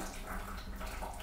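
Water flowing through the nose from a neti pot during jal neti nasal rinsing, a soft steady trickling and splashing stream, close and continuous for a brief moment.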